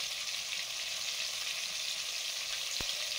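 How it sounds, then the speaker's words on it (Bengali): Steamed kalmi greens fry in oil in a wok, giving a dense, continuous hissing sizzle at a constant level for the whole stretch, with one faint knock near the end. "শাক ভাজা করবো এখন।"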